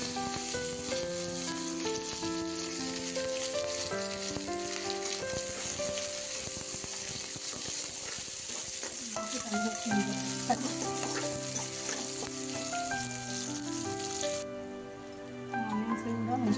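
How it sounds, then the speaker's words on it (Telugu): Green chilies, onion and curry leaves fry in oil with roasted peanuts for okra fry, giving a steady, moderately faint sizzle with light crackling and stirring scrapes throughout. "ఆనియన్స్ కూడా మంచిగా ఫ్రై అయిపోయినాయండి."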